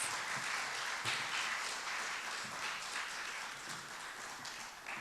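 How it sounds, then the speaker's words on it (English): A round of applause from an event audience for the organizer, a faint, even spread of clapping that fades slightly toward the end, with no voices over it. "let's give a round of applause for Jason Moore, who organized this event"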